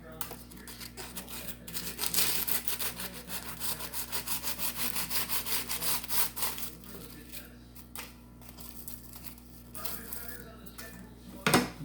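A knife trims the puffed-up top of a baked pastry layer for a French Napoleon, giving a close, rapid run of rasping, crunchy sawing strokes that thin out into sparse scrapes toward the end, with no voices.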